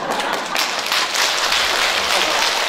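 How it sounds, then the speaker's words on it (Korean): Lecture-hall audience in a large district-office auditorium clapping hands during a laughter-movement talk, a dense steady wash of applause throughout at even loudness. "박수를 치시라면 제대로 좀 치세요."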